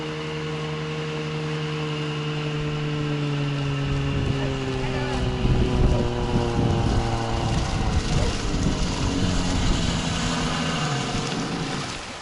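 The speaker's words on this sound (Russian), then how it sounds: "Моторная лодка идет." A motorboat on a river drones past with a steady engine hum whose pitch slowly slides downward as it moves by, loud and continuous throughout.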